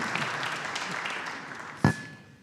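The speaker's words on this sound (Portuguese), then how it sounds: "Podem bater palmas se quiserem." Audience at a talk on human optimisation and a healthy society clapping in a soft, dense patter that fades out, broken by one sharp close thump near the end.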